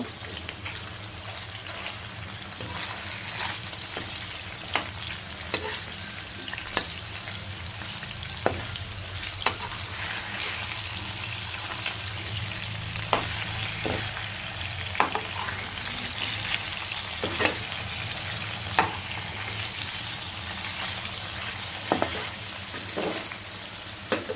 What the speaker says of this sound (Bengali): রুই মাছ আজকে ফ্রাই করেই খাবো